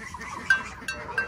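A horned male goat on a farm lets out a few short bleats, about three quick calls close to the microphone.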